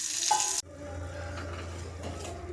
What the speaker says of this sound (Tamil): புளிரசம் இந்த அளவுக்கு கொதிச்சா போதும்.